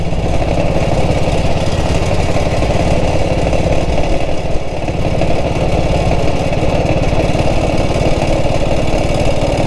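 A 1947 BSA BB31 British motorcycle on a test ride, its single engine thumping steadily and loudly throughout with a constant rough rumble and no break.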